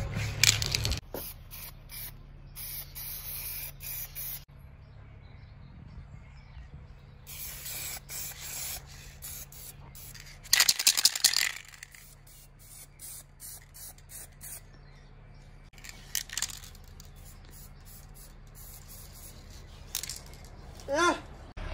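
A spray paint can hisses onto a camper van part in several separate bursts of varying length, with quiet gaps and faint handling noises between them.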